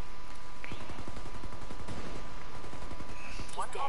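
Heavy gunfire in the Ghost War multiplayer shooter: rapid, closely spaced automatic bursts rattle steadily through the scene, with a voice briefly heard near the end.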